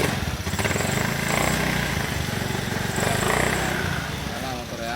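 A Honda Scoopy scooter engine runs loudly and continuously just after starting, unable to settle into a steady idle because its injector is not yet bolted in, with a voice speaking over it.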